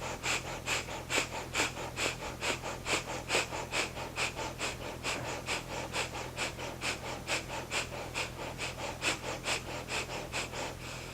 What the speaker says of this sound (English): It's like you're just sniffing and blowing, and it's like you're pumping through the belly